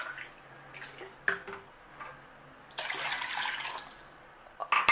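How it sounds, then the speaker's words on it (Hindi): Water poured into a container to be boiled for Indian-style masala pasta: a steady, fairly close splashing pour that runs for about a second, with faint drips and clinks before it and a few louder knocks at the end. "सबसे पहले हम एक कंटेनर लेंगे और इसमें वाटर ऐड कर लेंगे।"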